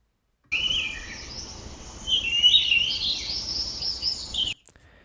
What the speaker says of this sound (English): that pretty much sounds like birds chirping